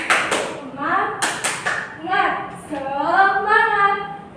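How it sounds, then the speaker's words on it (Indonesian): Children's 'tepuk semangat' clapping chant in a classroom, a few sharp rhythmic claps followed by a teacher's voice speaking and chanting. "Yang pertama itu ada tepuk semangat."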